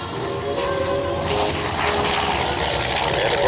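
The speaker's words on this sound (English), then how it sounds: "Here comes the F4U Corsair and those very unique gull-wing-styled wings." An F4U Corsair warbird with gull-wing styling flies past at an air show, its propeller engine a steady, loud drone that holds for the whole stretch with no one speaking.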